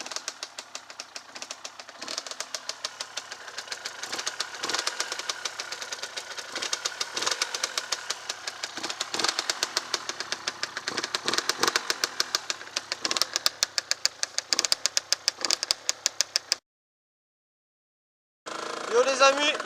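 A Derbi 50cc moped engine, just started, idles with a rapid, steady knocking putter, close and continuous, cutting out briefly near the end before starting up again.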